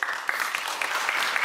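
Two people clapping close by at a Hyundai Grandeur car launch, a brisk rapid burst of overlapping claps.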